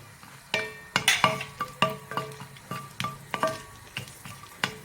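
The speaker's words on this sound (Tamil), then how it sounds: "லேசாக திராட்சை பொரிய ஆரம்பிக்கும் போதே" Cashews and raisins fry in a pan with a soft sizzle while a spoon strikes and scrapes the metal in a regular rhythm of about two sharp taps per second, close and clear with no talking.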